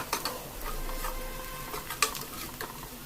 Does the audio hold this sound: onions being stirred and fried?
yes